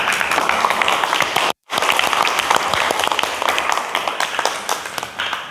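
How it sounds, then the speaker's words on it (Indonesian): Students in a classroom clap for group 1 after their presentation, loud continuous applause with a brief dropout, then carrying on. "Beri tepuk tangan"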